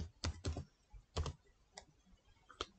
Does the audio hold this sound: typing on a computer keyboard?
yes